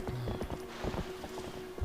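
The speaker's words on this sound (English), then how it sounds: "running over these Bulblins with my horse" A horse gallops in quick, rhythmic clip-clop hoofbeats while running over Bulblins in the video game The Legend of Zelda: Twilight Princess, close and steady, with a brief neigh-like tone near the end.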